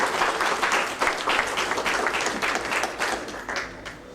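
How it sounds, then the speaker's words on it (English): An audience at an event opening session in Miami Gardens claps steadily in a dense, sustained round of applause that holds for several seconds before easing slightly at the end. "Let's give them another big round of applause."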